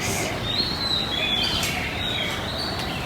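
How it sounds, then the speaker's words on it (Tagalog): Several high bird chirps and short calls ring out intermittently over a steady outdoor background hiss. "Nakaka-relax yung huni ng mga ibon."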